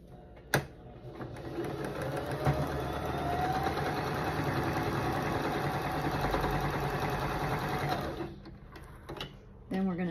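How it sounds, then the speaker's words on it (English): A sewing machine stitching fabric runs steadily for several seconds, a continuous mechanical whir with a brief clunk at the start and a pause near the end. "So I'm going to sew those two together."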